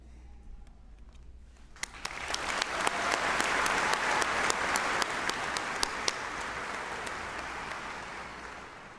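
Applause at a 2023 White Bear Lake Area High School graduation ceremony swells up after a quiet start into a broad, sustained crowd clapping that holds steady for several seconds, moderately distant.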